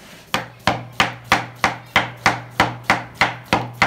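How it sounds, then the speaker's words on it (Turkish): A knife chopping through banana on a cutting board, eleven crisp evenly spaced knocks in a steady rhythm, close and loud with no talking. "Aynı şekilde muzumuzu da doğruyoruz."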